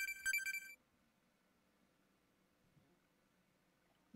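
Cell phone ringtone sounding in a brief bright burst at the very start, then cutting off and leaving a quiet background.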